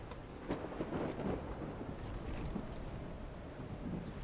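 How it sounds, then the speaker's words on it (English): A stormy seaside ambience from Call of the Sea: wind and rain roar steadily, with a few low thunder-like thumps and gusts rising and falling, moderately loud, no voices. "I like how the storm noise subsides immediately as soon as you go into that tunnel"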